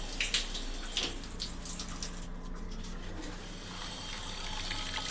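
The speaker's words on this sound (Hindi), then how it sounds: "देखियो मैं अभी ना टैप ऑन करूँगी, देखना कर दी। अब देखियो यहाँ पे पानी" Water runs steadily from a household tap for several seconds, a continuous hiss and splash at moderate level with a few brief clicks near the start and no talking.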